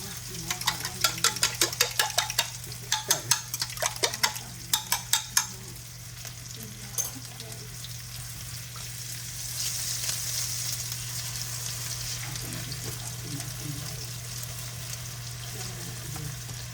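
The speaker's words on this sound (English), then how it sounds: "I'm going to go ahead and scramble my eggs in here." Eggs being scrambled in a pan with cooked vegetables during a home dinner prep: a quick run of sharp utensil clinks against the pan, then a steady sizzle of frying that carries on to the end.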